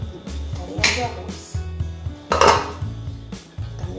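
A carrot cake being turned out of its baking pan in a home kitchen, with clattering pan and utensil knocks near and fairly loud, mixed with someone talking throughout.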